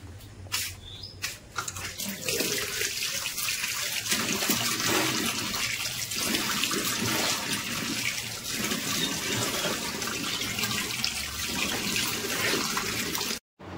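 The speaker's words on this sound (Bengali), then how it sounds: "চলো আমি ঠান্ডা পানি দিয়ে ভালো করে মুখটা ধুয়ে নিই" Cold tap water runs steadily into a basin during face washing, a continuous close splashing flow with small shifts in tone that stops abruptly at the end.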